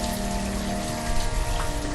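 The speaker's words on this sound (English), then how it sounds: "And it's raining, because why would it stop raining?" Rainfall in the city-building video game Banished, a steady dense patter of rain with a faint underlying tonal game hum, continuous and fairly loud, no speech.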